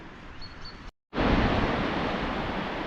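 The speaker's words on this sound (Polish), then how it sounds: "Mocno wieje. Morze szaleje." Steady roaring wash of heavy stormy sea surf and strong wind, broadband and loud, briefly cutting out for a moment before resuming at full force.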